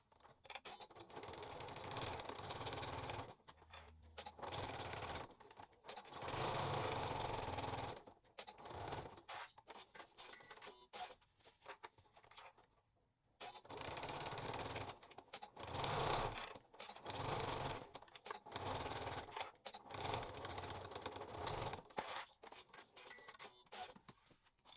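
A sewing machine stitches the side seams of a double zipper pouch in loud, steady mechanical bursts, stopping briefly between runs with a short quiet pause midway, close by and without speech.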